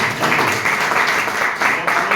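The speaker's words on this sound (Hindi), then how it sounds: "तो एक बार जोरदार तालियां चाहूंगा सर दोनों लीडर के लिए" An audience at an event in Fatehabad applauds two leaders with steady, dense clapping that stays loud and continuous for a couple of seconds.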